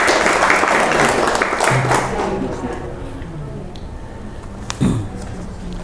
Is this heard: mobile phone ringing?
no